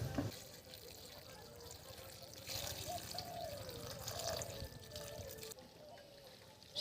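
Water is poured over freshly cut bottle gourd greens to soak them in a kitchen: a steady, close splashing pour with trickling, continuing for several seconds with no voice.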